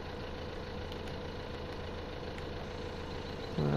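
A tractor engine idles in Farming Simulator 15 with a steady, even drone that holds level throughout, then swells slightly louder near the end.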